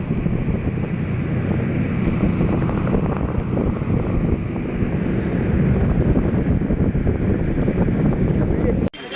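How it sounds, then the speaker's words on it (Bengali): A passenger launch boat travels on a river toward a ferry ghat, with a loud, steady rumble of engine, water and wind that runs without a break before cutting off sharply at the end. "3 জনকে নিয়ে আমাদের লঞ্চ ছেড়ে দিয়েছে।"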